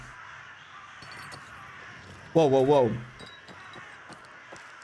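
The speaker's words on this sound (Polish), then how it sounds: "kruki czy to wrony" Crows cawing in Dying Light 2, a short burst of several harsh caws midway over quiet game ambience, with a voice speaking in the clip.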